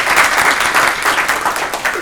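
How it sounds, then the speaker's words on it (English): An audience applauds a presenter named Tony at an app demonstration, with dense, steady clapping that stays loud and close for the whole stretch and no voices over it. "let's have a round of applause for Tony right here."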